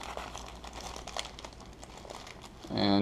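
Sealed plastic bag holding toilet paper being handled and crinkled, with close irregular rustling and crackling, ending in a louder steadier noise.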